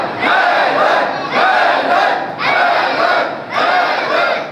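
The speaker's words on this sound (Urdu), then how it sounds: "حیدر حیدر مل کے نعرے حیدری۔" A crowd at a religious gathering chants "Haidar" in loud unison, four strong rhythmic bursts with short gaps between them, like a battle cry.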